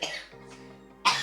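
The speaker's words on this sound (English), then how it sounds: "Drank too much water and now I cough." Two short, close coughs from a person who had drunk too much water, with a brief throaty pause between them.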